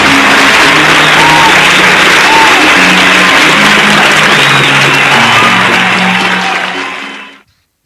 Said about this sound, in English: A round of applause to David and for that film.